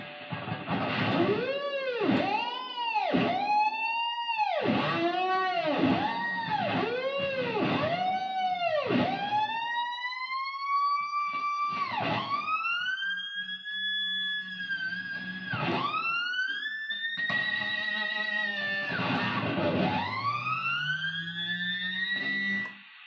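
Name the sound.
guitar harmonics on strings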